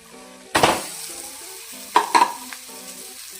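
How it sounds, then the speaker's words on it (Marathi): Mashed potato with turmeric and coriander tips into a hot pan for vada pav filling and frys with a sudden burst of sizzle. Two more quick sizzling spurts follow, then a steady low frying hiss. "बारीक केलेला बटाटा आपण याच्यामध्ये टाकून घेऊया."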